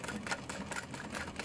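A sewing machine stitches around the zipper pocket of a clutch wallet, a quiet, close, fast and even rhythmic clatter of the needle running without pause.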